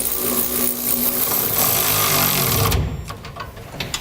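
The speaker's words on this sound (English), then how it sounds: "we'll now snug down our frame brackets to our rails. 3/4 inch sockets again and wrenches." Frame bracket bolts on a B and W fifth wheel hitch being snugged to rails with 3/4 inch sockets and wrenches on a 2015 GMC Sierra 3500, a loud grinding mechanical rattle that stops abruptly, then quieter clicks.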